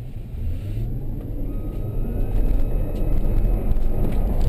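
A car speeding up to about 30 miles an hour and then braking, heard as a steady low engine and road rumble that grows slightly louder toward the end, with no talk.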